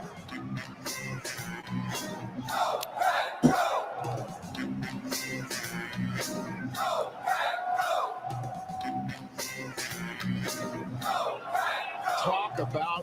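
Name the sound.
crowd cheering at NFL draft watch party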